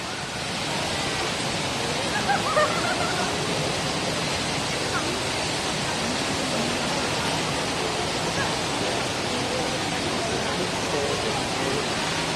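Water cascades steadily from the indoor waterfall at Jewel Singapore, a dense, continuous roar of falling water that fills the space evenly throughout, with faint voices now and then beneath it.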